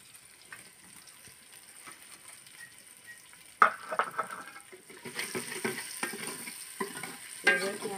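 Tomatoes being stirred into a sizzling masala in a pan: quiet frying hiss at first, then sharp scraping spoon strokes and louder sizzling as the mixture is turned, close and without speech.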